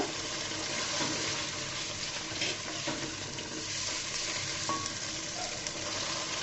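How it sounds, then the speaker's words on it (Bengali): Ginger, garlic and onion paste sautéing for duck curry, a steady close sizzle and frying hiss with occasional stirring scrapes, fairly quiet and continuous. "দিয়ে আমি ভালো মতো এটাকে কষিয়ে নিব কাঁচা গন্ধটা যাওয়া পর্যন্ত।"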